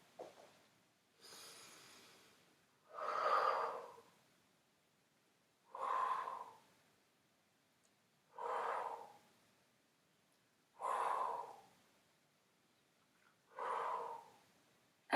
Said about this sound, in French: je respire très vite et que mon corps n'est pas, votre corps n'est pas habitué à respirer vite